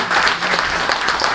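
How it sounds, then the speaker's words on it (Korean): A church congregation at a March 1st Independence Movement Day memorial service bursts into loud, dense applause, a sustained wash of clapping with no voices on top. "박수 감사합니다"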